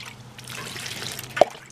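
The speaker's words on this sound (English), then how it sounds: "So this is how I water my succulents." Water poured onto succulents in a terracotta pot, a quiet steady trickle with a single brighter drip near the end.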